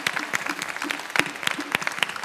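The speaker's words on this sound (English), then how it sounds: "I want everyone to give themselves another big round of applause" Children and families at a Musical Explorers concert at the Holland Center clap, a moderately dense round of applause with distinct sharp individual claps popping out of the steady patter.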